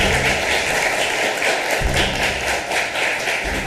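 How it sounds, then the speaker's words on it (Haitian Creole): A studio audience applauds a chef on a television cooking show, a dense, sustained wash of clapping from many hands that stays loud and even throughout. "Mesdames et messieurs, applaudissements pour chef là."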